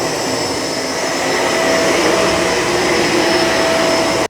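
A Shark Rotator Pet Lift-Away vacuum cleaner runs steadily on carpet, its motor giving a loud, continuous whine with a high tonal hum and broadband rush, unbroken by speech until it cuts off abruptly at the end.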